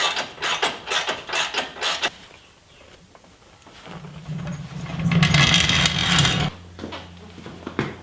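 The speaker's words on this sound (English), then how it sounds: "So I put a jack under here. I think I'll just jack it up into place." A floor jack ratchets a Jeep XJ front bumper up into place, with a run of sharp, rhythmic mechanical clicks followed by a louder grinding, metallic stretch and a low hum, close and with no talking.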